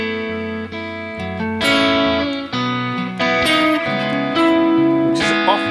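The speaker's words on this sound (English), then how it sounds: "arpeggios would sound like this." Arpeggios played on a sustained-tone instrument, with notes stepping up and down in a steady flowing pattern. The tones are clear, continuous and fairly loud, with no voices.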